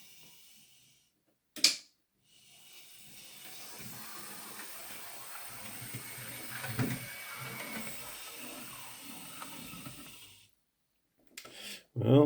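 A Hornby R30319 Class 14xx model locomotive, repaired after a rear axle spring fault, runs on a test track with a steady low whirring rumble for about eight seconds, bracketed by brief clicks and handling noises.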